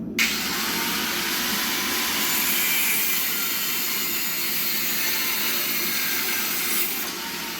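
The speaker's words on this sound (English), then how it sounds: "Doesn't matter if you cut it hot or cold, doesn't make any difference, it's not gonna hurt the grinder." At a forge, an angle grinder cuts into metal with a continuous loud, harsh, hissing whine that holds steady for several seconds without a break.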